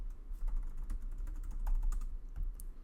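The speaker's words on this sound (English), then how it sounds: "I'm just going to type in my kids' names." Typing on a computer keyboard, a quick irregular patter of light key clicks at close range in a quiet room, steady for a few seconds with no talk.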